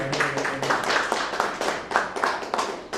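Listeners at a Tamil spiritual discourse on the Narasimha avatar clap for the arriving speaker, a small gathering producing a brisk, uneven patter of hand claps that runs steadily for a few seconds at moderate volume.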